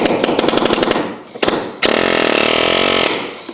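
Banks compact palm nailer from Harbor Freight drives nails with very loud rapid hammering bursts, first a stuttering rattle, then a sustained buzzing pneumatic run of about a second, close and alone.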